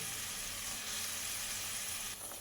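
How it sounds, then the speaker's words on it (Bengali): Pieces of already-fried pabda fish go into a pan holding a little water and spices, a soft, steady sizzle and hiss that tapers slightly at the end, faint and close, without any talking. "এবার ভেজে রাখা মাছগুলো এর মধ্যে দিয়ে দেবো"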